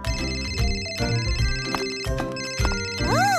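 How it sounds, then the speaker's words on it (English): A telephone rings in a home with a bright electronic ringtone, repeating in several regular bursts over a steady background, ending with a rising and falling warble. "It's the phone!"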